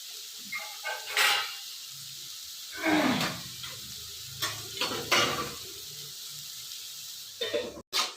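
Bottle gourd cooks in a pan, giving a quiet sizzle broken by several bursts of stirring and scraping, close and moderately soft.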